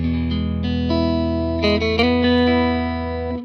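Electric guitar played through an amplifier switched to its bright mode, sustained chords and single notes ringing with a bright, cutting edge and a slight effects shimmer, close and loud with no talk.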